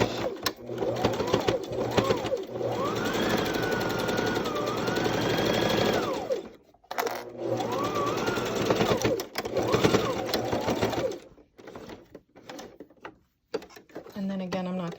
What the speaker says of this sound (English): now we're gonna sew along this edge right here, and that'll create a channel